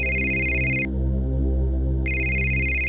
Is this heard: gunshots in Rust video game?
no